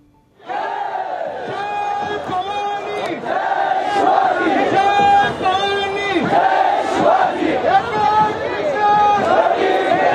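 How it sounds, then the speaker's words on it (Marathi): A crowd of protesting MPSC students in Pune chants rhythmic slogans in unison, loud and close, with chatter mixed in and repeated pulsing shouts throughout. "विद्यार्थ्यांची गर्दी या परिसरामध्ये वाढू लागते आहे।"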